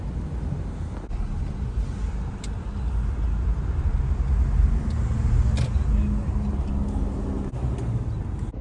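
A car drives along a road past mosques and restaurants, giving a steady low rumble of engine and tyre noise with wind buffeting the microphone, continuous and fairly loud without speech.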